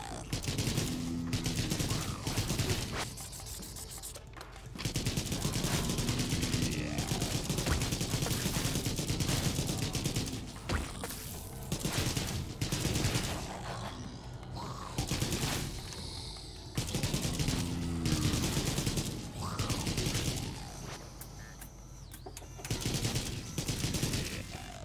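Bursts of rapid automatic gunfire from a zombie shooter game, running through repeated loud volleys with brief lulls, while someone talks in between.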